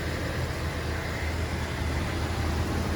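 Steady low rumbling drone of a truck engine idling, being repaired for transfer-case issues, constant and close, with no talking.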